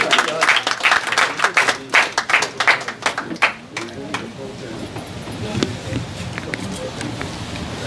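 An audience at a mushaira poetry gathering applauds a poet with a burst of distinct, fairly close hand claps that fades after a few seconds into room murmur and someone speaking.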